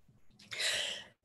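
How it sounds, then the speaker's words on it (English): A single close sneeze, with a short intake of breath and then a loud, breathy burst lasting about half a second before it stops abruptly. "I'm going to sneeze."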